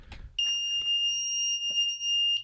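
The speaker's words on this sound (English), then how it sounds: "set off the alarm just to make sure" A PIR-triggered alarm built on an ATtiny85 chip running an Arduino program gives out a steady, piercing electronic tone. It starts abruptly after a few soft handling taps and keeps sounding, loud and close.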